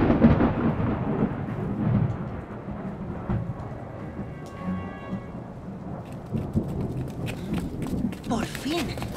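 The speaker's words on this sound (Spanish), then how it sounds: "La tormenta casi está aquí." Thunder rumbles through a mountain storm in an animated scene, deep rolling booms under rain and scattered clatter, with brief voices near the end.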